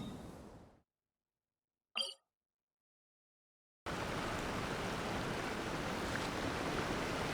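A waterfall in the video game Genshin Impact roars as a steady, broad rushing wash that cuts in abruptly after a near-silent stretch broken by one brief noise, then continues evenly and fairly loud.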